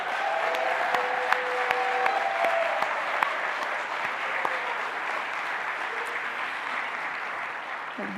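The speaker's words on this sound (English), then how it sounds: "can we do a big round of applause for the Métis Justice Strategy?" A large audience at a Métis assembly's opening ceremonies breaks into sustained, steady applause that fills the room for about eight seconds, holding even and dense before easing slightly at the end.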